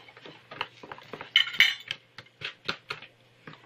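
A utensil clinks and scrapes repeatedly against a bowl while banana bread ingredients are stirred, producing a quick, irregular series of close metallic taps.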